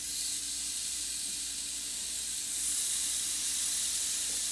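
Lamb chops searing in a hot pan, a steady bright sizzle and hiss that carries on evenly and grows slightly louder midway, with no voices.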